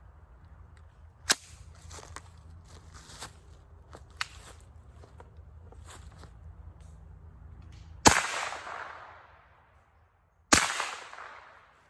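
A Kel-Tec Sub2000 carbine fires standard velocity 9mm rounds: two loud, sharp shots about two seconds apart, each with a ringing tail. Quieter handling clicks come before them.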